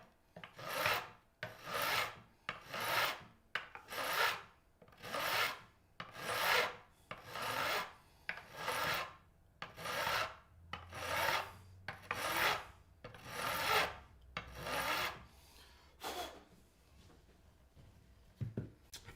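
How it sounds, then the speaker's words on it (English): Rhythmic rasping strokes sand and file the frets of a 1982 Gibson SG guitar, about a dozen steady back-and-forth passes at close range with short pauses between them. "So if this sanding's too loud"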